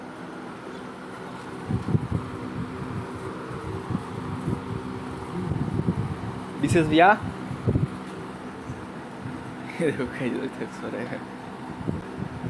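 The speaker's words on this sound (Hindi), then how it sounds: "कूलर चालू" An air cooler runs in a room where someone is sleeping, giving a steady whooshing fan hum under someone talking close by.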